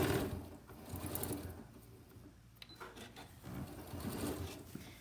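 A sewing machine stitches and backstitches a fabric corner in quiet bursts of rapid mechanical chatter that pause in the middle, with faint clicks and handling noise.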